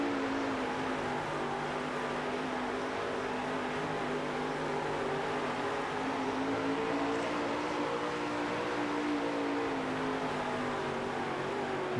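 A dirt racing car engine in World of Outlaws: Dirt Racing on PS5, on a car that barely turns anymore, drones steadily and evenly for twelve seconds, a continuous mid-level motor hum with no talk over it.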